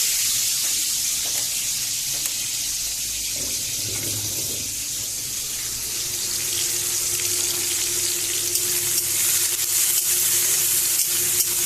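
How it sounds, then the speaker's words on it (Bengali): Prawns fry in a pan with a steady, fairly loud hiss and sizzle that continues for the whole stretch, joined by a faint scrape or two and no talking. "চিংড়ি মাছটা আমার ভাজা হয়ে এসছে"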